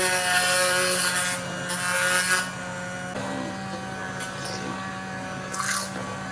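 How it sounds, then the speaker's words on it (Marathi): An electric beater whirs while mixing sugar-free amrakhand, a steady close motor hum with a few louder bursts and brief scraping surges, no talk. "अगदी एकजीव व्हावा, छान मिक्स व्हावा यासाठी आपल्याला बीटरच्या साहाय्याने फिरवून घ्यायचं आहे"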